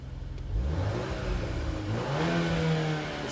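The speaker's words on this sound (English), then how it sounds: "you can hear the tone of the exhaust change then from the sport to" A 2021 Volkswagen Golf 8 R in sport mode revs its exhaust up and down, loud and close, with a rising sweep in the second half over a steady engine drone. No voices.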